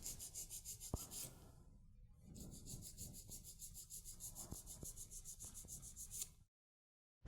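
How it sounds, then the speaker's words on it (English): A nail file rubs along a fingernail, filing straight out from the nail groove in short, soft, rhythmic scratching strokes close up, with a brief pause midway and quiet handling knocks. "file straight out from the nail groove on the right"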